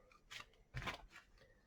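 Tarot cards are shuffled in three short papery bursts, close and quiet, with brief pauses between them and no talking.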